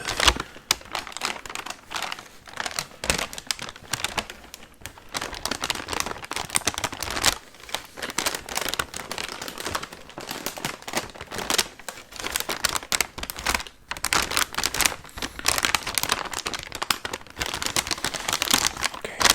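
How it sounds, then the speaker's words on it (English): Tissue paper from a shoe box, packing for a pair of futuristic auto-lacing shoes, crinkles and rustles continuously and close up for about twenty seconds, with dense irregular crackles and no talking. "they come in some tissue paper, which I'll try to get some crinkly"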